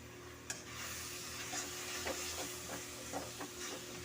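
A spoon scrapes and stirs through a thick carrot halwa mixture with cashews and raisins in a pan, with soft rhythmic strokes over a faint background hiss.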